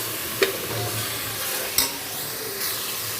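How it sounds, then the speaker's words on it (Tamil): Tomatoes sautéing in an oily pan for mutton biryani make a steady close sizzle, broken by a few sharp stirring scrapes and clinks, with no talk. "இப்போ தக்காளி நல்லா வதங்கிடுச்சு"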